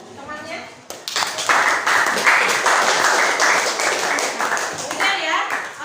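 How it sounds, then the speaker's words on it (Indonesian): A classroom of students applauds a classmate after her presentation, with brisk, loud, sustained clapping that starts suddenly and carries on for several seconds, with a few voices mixed in. "Beri aplaus dulu untuk temannya"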